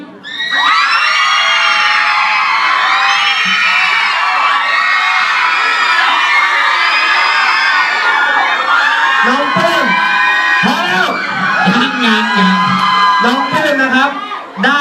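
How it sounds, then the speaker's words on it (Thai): A large group of high school students in a hall cheer, whoop and shout together at full volume for the whole stretch, with high-pitched voices and bursts of yelling building and shifting toward the end. "ใครอยากให้น้องปื้มได้เสื้อขอเสียงหน่อยครับ"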